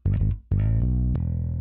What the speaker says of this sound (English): You can hear some distortion going on now.